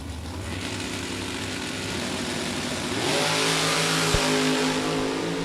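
A Chevrolet S10 drag racing car idles loudly at the strip, then its engine revs up sharply and launches, the roar rising and holding steady.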